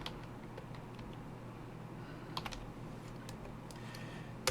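Quick, light clicks of fingers typing on a computer keyboard at a salvage yard's parts-search terminal, short irregular bursts of keystrokes over a quiet hum, with no voices.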